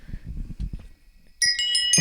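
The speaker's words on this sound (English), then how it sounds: "you got some chimes behind you" Bright metallic chimes ring out in a few quick strikes at an Adirondack trail privy along the Northville Placid Trail, following a stretch of talk and sounding close and clear.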